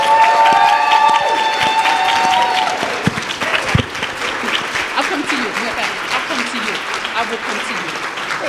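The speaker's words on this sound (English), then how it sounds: "Please give a round of applause for our Social Equity Award recipient, Mr. Caleb Jackson Jr." A crowd at a Juneteenth summit at Harrisburg University applauds an award recipient, steady dense clapping with a few cheers, loud throughout, while a voice speaks over the start.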